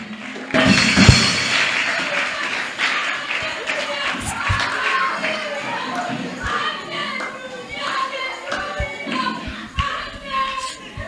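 A church congregation cheers and acclaims during a Sunday service, a loud burst of crowd voices and shouts that gradually settles into a mix of scattered cries and thuds.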